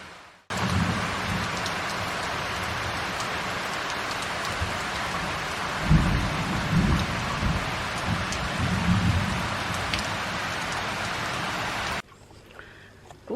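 Heavy rain falls during a night thunderstorm in Montenegro, a loud continuous roar of downpour with low thunder rumbles swelling midway, before the sound cuts abruptly to quiet near the end.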